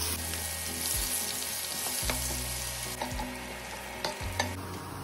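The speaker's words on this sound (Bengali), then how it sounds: "তারপরে ওর উপরে পেঁয়াজ কুচি দিয়ে দিলাম।" Chopped onion fries in oil with bay leaf and garam masala for a katla fish kalia, producing a continuous close sizzle broken by a few soft spatula thumps against the pan, with no voices.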